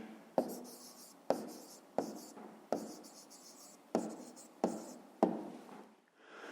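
A pen or pencil writes down the answer to a fifth-grade math exercise, close up, in a series of seven sharp taps and short scratchy strokes that come about a second apart and then stop.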